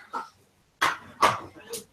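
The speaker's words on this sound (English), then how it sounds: "Little dogs are going off." Several small dogs bark in short, sharp bursts, roughly three loud yaps spaced about half a second apart after a brief earlier yip, fairly close, with people talking nearby in a public outdoor gathering.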